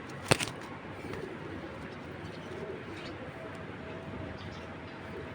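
Low pigeon cooing murmurs faintly under background noise, opening with a brief sharp click near the start.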